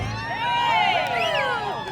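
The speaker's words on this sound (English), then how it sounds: "It's a really good crowd for a Brewfest!" A lively crowd at a Brewfest in Olympia, Washington, a dense steady babble of many voices with cheering and whoops close by, continuing throughout.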